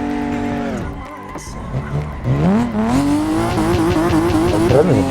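Handbrake drift in the Assetto Corsa racing game, with a revving engine whose pitch climbs and holds high while the tires squeal through the slide, loud and continuous under some talk.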